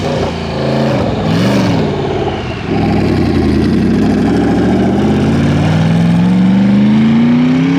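A twin-turbo S197 Mustang being unloaded from a trailer at a car meet gives off a steady, loud engine drone, then revs with a rising whine toward the end. No voices are heard.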